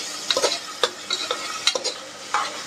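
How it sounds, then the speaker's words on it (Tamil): Onions sautéing over a high flame for vegetable biryani, a steady sizzle broken by repeated spoon scrapes and stirring knocks against the pan, close and fairly quiet with no talking. "வெங்காயம் வந்து நல்லா பொன்னிறமாக வர அளவுக்கு நல்லா வதக்கிக்கலாம்"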